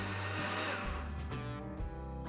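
A kitchen blender whirs steadily, mixing grape-flavored gelatin with plain yogurt, a loud continuous motor drone that shifts pitch partway through as the load changes.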